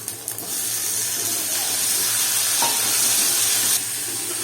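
Tomato and shallots sauté in a pan for a village-style mutton curry, a steady close sizzle and hiss running throughout with a light stirring scrape.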